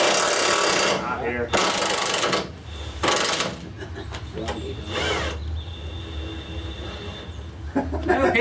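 An 18 volt 5 amp hour cordless impact wrench fitted with a chrome socket, working a bolt during a VW camper TDI engine removal: loud, harsh rattling bursts that stop and start, with talk heard between them.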